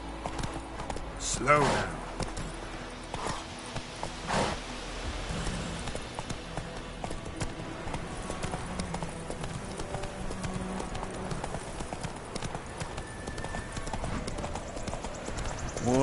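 Roach, a horse in The Witcher III, clip-clops along steadily at close range, hoofbeats continuing the whole time under game music and occasional dialogue, with one short spoken line.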